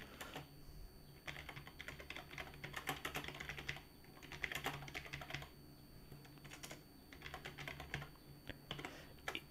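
Computer keyboard typing in several steady bursts separated by short pauses, the key clicks close and fairly crisp.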